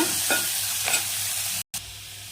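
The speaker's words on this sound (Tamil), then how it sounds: "வெங்காயத்தை சேர்த்துக்கலாம் நல்லா வதக்கிக்கலாங்க" Chopped onions sauté in hot oil with mustard seeds and curry leaves, a steady close sizzle with a few scraping stirs of the spoon and a brief cut in the sound near the end.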